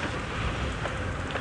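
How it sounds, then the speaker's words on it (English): Light morning rain patters steadily with a soft, even hiss during an open-vehicle safari drive in the Chitwa area, with no voices over it. "There's a bit of rain falling actually this morning"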